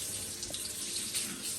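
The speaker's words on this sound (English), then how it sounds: "the first thing I'm going to do is I'm going to wash my hands" Hands washed under a running kitchen tap before cooking: a soft, steady hiss of flowing water with a few faint splashes, quiet and close.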